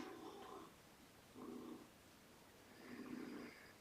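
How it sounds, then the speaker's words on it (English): A cat that wants to go outside purrs in three slow, soft rumbling swells with quiet gaps between them, close and faint in an otherwise still room. "the purring of the cat who wants outside"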